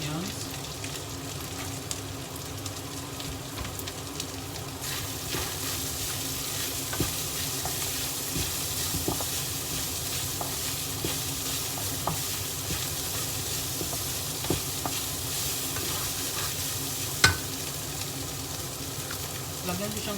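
Garlic and onions sizzle and fry steadily in a hot pan for a Filipino ground pork and giant cauliflower guisado, with continuous crackling, occasional utensil scrapes and faint background noise throughout.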